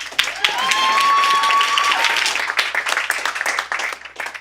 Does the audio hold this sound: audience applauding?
yes